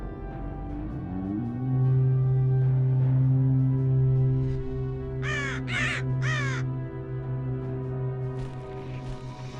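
Storm crows from a WarCraft 3 mod played in StarCraft 2 give three quick, harsh caws in a row over a steady game music and ambience bed, fairly close and clear.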